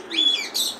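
Fancy high-flyer pigeons at a busy pigeon market give two quick, faint chirping calls in under a second, heard alone without talk.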